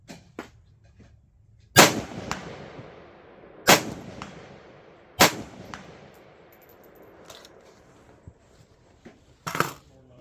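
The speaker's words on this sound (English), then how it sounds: "Here's a quick couple of headshots on that silhouette down there at about 130 yards." Rifle shots ring off a steel silhouette target about 130 yards downrange, four sharp cracks with metallic clangs spaced a couple of seconds apart, each decaying quickly against a quiet outdoor background.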